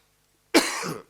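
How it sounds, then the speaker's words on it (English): One short, harsh cough, close and loud, after a moment of silence. "You see, I do have a cough."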